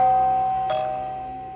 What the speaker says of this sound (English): The doorbell sounds.